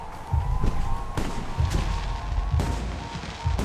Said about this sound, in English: The noise from those fireworks should cover the sound of gunfire.